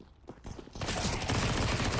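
Counter-Strike gunfire on Overpass, Glock pistol and SMGs: a few scattered shots, then a dense burst of rapid automatic fire crackling continuously for over a second, close and loud, no talk.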